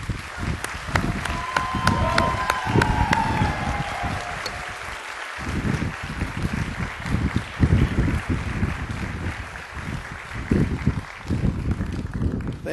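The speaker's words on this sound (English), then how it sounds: "join me in an applause to thank the faculty, staff, family, and friends who nurtured your passion for learning" Applause from a college commencement crowd honoring faculty, staff, family and friends, a broad rushing wash of many hands heard at a distance with wind buffeting the microphone.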